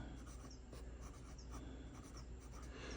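A BENU Talisman fountain pen with a fine nib and blue ink scratches softly across paper in a steady, close, quiet run of strokes.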